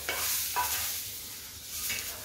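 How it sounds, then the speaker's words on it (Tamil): Onions for coconut chutney sizzle gently in a pan, with a couple of soft stirring scrapes over a low, steady frying hiss. "இது ரொம்ப நேரம் நான் வறக்க வேண்டாம் வெங்காயத்தை, அப்படியே சாஃப்ட் ஆகிடக்கூடாது, கொஞ்சம் கிறிஸ்ப்னஸ் இருக்கணும் வெங்காயத்தில்."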